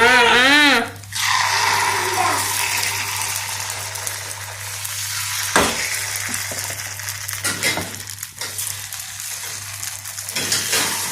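Ponganalu batter fries in a pan with a steady, hissing sizzle that runs throughout, while a voice speaks over it now and then.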